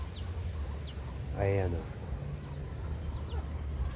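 Native chickens cluck in short, scattered calls at close range over a steady low background hum, while someone speaks briefly in the middle.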